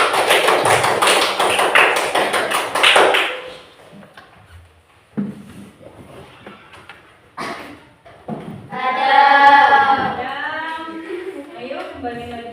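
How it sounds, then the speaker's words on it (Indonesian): Students in a classroom applauding a presenting group: a few seconds of dense clapping, then quieter thumps, scattered taps and children's voices talking. "Beri tepuk tangan buat kelompok 2"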